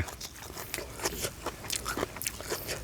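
Crispy food, such as roasted dung beetles, crunched up close in steady, repeated chewing bites with sharp crackling bursts and no talk.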